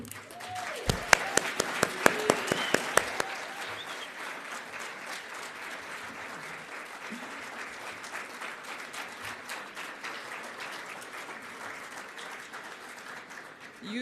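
An audience applauds at a hydrogen energy summit, with sharp individual claps standing out at first before settling into steady, sustained clapping from a large crowd that continues throughout.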